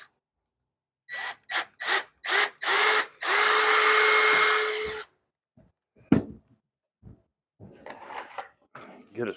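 Power drill driving screws into French door hinges: five short bursts of whirring in quick succession, then one long sustained run, close and loud, followed by scattered knocks and handling noises.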